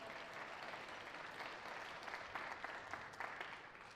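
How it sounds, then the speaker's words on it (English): Steady applause for the winner at a women's open tournament semi-final: continuous clapping from a crowd with a few louder individual claps, heard at a distance and fairly faint, with no speech. "just have another round of applause for Kaitlyn Watts there"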